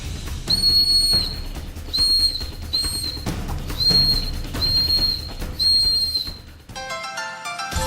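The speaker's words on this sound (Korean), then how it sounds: "불면은 휘슬 소리가 나는 기능이 첨가되어 있습니다" A shrill emergency whistle on a rescue respirator blown in six short bursts at a steady rhythm, loud and close, with a brief rattling clatter at the end.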